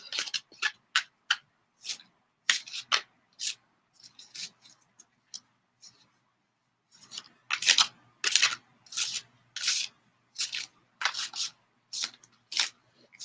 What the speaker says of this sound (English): That was a pretty good shuffle.